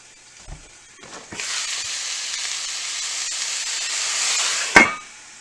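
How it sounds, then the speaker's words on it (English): Water splashes into a hot pan and erupts into a loud, steady steam-frying hiss that holds for several seconds before a clank of cookware and a quick fade. "So now I'm going to throw a little water in."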